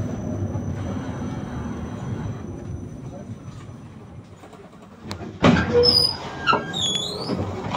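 A Krasnodar tram on route 11 rides along with steady rumbling from inside the car, then a sharp jolt followed by squealing wheels and metallic screeches.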